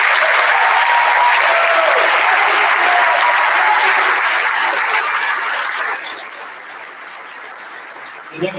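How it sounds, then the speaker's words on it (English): Crowd applause in a gym at a basketball senior night honoring a player, dense clapping that holds strong for several seconds then thins and fades to a quieter room tone, with a brief knock near the end. "Would you give David a big round of applause?"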